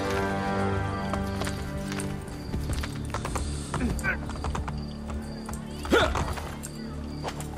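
Horse hooves clip-clopping at a steady run through city streets in the video game Assassin's Creed Brotherhood, mixed with game music and ambience, while someone talks over it in Spanish.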